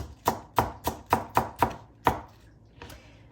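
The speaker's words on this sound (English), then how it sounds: "We just cut that as thinly as possible" A knife slices thinly through watermelon on a cutting board, giving six sharp, evenly spaced chops close up, then a short pause and one fainter cut.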